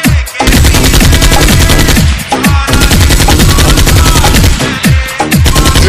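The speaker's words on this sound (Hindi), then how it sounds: "गोली चलाते रहो।" Sustained machine gun fire in a battle scene, loud and close, with rapid continuous bursts broken by brief gaps and overlapping shots.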